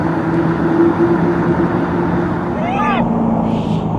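An Alfa Romeo 8C with a V8 engine drives along, a steady loud engine drone heard from inside the car, with a voice speaking over it.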